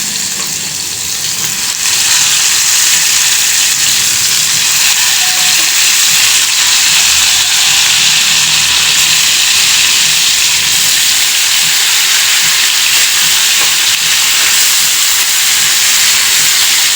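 Oil sizzling hard in a pan while spices are tempered for a home-cooked dish, a loud steady frying hiss that holds continuously throughout, close up with no talk.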